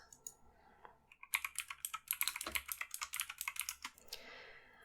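Rapid typing on a mechanical computer keyboard, a dense burst of crisp, close key clacks after a few scattered taps, then trailing off.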